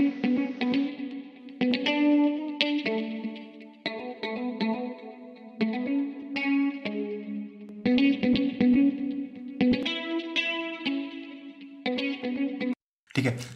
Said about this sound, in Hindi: कोरस इफेक्ट एक्चुअली गिटार में बहुत ज़्यादा अच्छा साउंड करता है,